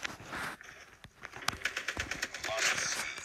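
Bursts of rapid gunfire from a gun in a Call of Duty match, a fast rattling volley in the middle with scattered shots around it, mixed under game noise and talk.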